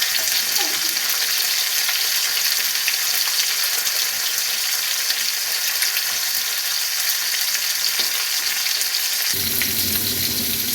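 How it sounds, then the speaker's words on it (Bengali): Pieces of rohu fish frying in hot oil for korma, a constant loud crackling sizzle with occasional stirring and a shift in tone near the end. "দেখো বন্ধুরা আমার মাছগুলো সব ভালো করে ভাজা হয়ে গেছে"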